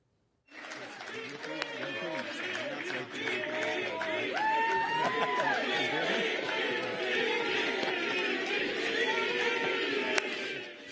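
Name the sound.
supporters chanting 'Veep' for Vivek Ramaswamy at rally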